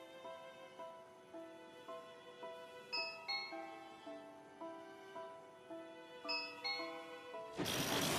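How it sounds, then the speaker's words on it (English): A doorbell wired to a gaming station plays a repeating electronic chime melody of clear bell-like tones, moderately quiet, with a burst of noise at the very end. "I had connected the doorbell to my gaming station."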